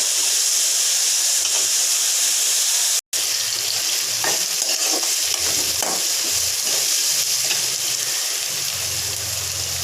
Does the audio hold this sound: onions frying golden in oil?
yes